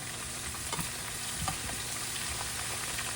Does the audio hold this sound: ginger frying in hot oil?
yes